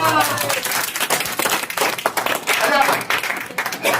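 Audience clapping at a Hindi comedy and poetry show, uneven bursts of applause that swell and dip, mixed with crowd noise and some speech.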